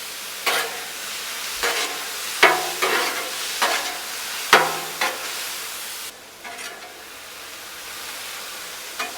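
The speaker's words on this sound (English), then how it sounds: "I like to move the meat around all over the place." Taco meat sizzles and is stirred on a hot Blackstone griddle, with a steady frying hiss broken by several sharp scraping bursts as the spatula moves it around, close and moderately loud, no talking.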